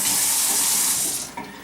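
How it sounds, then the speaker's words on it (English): Pfister touch-free kitchen faucet spraying water, a loud, steady rushing hiss that holds for over a second before tapering off abruptly near the end. "now we'll test the sensor. And you just need to move your hand within 4 inches of the faucet, and it turns on and off"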